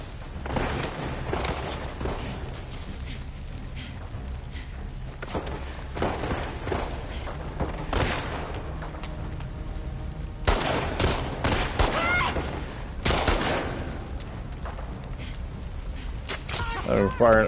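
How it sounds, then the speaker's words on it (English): Gunfire in The Last of Us Part II crackles in bursts of sharp shots, some spaced and some rapid, mixed with thuds and footsteps while someone talks over the action. "I'm firing at everybody here."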